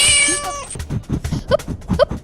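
A cat gives a high, bright meow, then several shorter, quieter mews and chirps follow in an uneven rhythm, close and clear with no talk.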